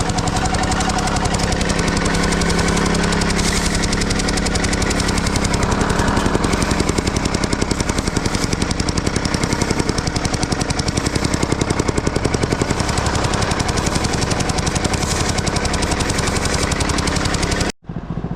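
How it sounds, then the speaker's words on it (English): Continuous loud, rapid mechanical hammering of a jackhammer breaking ground to expose the bottom of an existing foundation footing, steady throughout and close by, stopping abruptly near the end. "we're just digging to expose the bottom of that existing footing"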